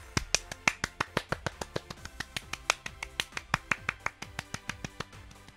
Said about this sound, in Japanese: あ、拍手してる。